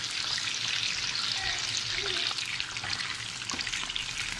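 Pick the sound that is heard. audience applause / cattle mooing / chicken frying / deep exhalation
chicken frying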